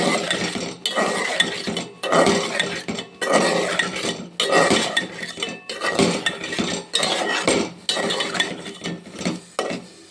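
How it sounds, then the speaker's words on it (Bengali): A spoon scrapes and clatters in a cooking pan while chopped green chillies are stirred with fish curry ingredients, in repeated loud rhythmic strokes at close range and with no talking. "নেড়ে নেব। কাঁচা লঙ্কা কাটা দিয়েছি।"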